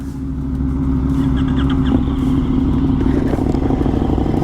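Close, loud idle of a 2023 KTM 1290 Super Duke motorcycle with an SE Project CRT exhaust, a deep steady rumble with mechanical clatter and a slight rise in revs, no voices.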